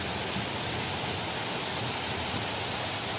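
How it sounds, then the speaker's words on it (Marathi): The first monsoon rain in Konkan falls as a steady, dense hiss, even and unbroken throughout with no voices. "आज आमच्या कोकणामध्ये पहिलाच पाऊस पडतोय बघा."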